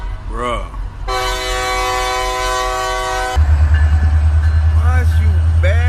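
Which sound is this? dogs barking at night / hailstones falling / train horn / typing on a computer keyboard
train horn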